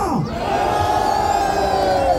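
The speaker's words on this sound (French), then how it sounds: "À 3, je veux vous entendre hurler et lever les bras en l'air" Loud audience screaming and cheering at the Capcom cosplay parade stage during Paris Games Week, a sustained roar of voices with high whoops, close and unbroken.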